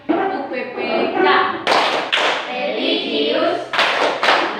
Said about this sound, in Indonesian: Bagaimana kalau kita tepuk PPK?